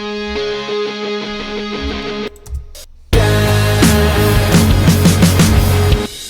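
Sustained guitar feedback tones ring over a dense rock mix, with a brief drop near the middle before the full band crashes back in loud and steady.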